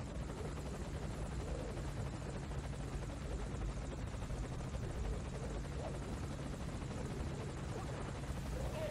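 A helicopter in the stealth video game Metal Gear Solid V: Ground Zeroes drones steadily and loudly for the whole stretch, a continuous rotor hum and whine with no talk over it.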